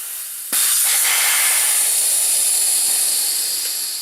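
Kawasaki Z1000 front tyre being inflated on a MAX2H tyre changer in a garage: a sharp pop as the bead seats, then a loud continuous air hiss.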